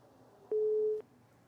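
A telephone busy tone after a dropped call-in to a live radio show: one steady beep lasting about half a second over quiet background hiss, clear and alone.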